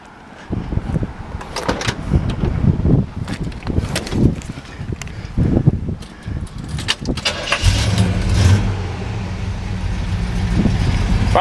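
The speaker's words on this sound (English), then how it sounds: "Go ahead and fire this one up for you." A 1961 Chevrolet Impala bubble top with a V8 is handled with clunks and rattles, then cranks and catches late in the clip, settling into a steady, loud, low idle rumble.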